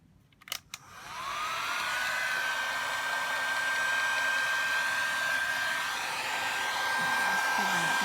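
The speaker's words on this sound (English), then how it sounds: "And get the heat gun." Heat gun for card making switching on after a couple of clicks and blowing steadily, a loud continuous whine and whoosh at close range with no talking.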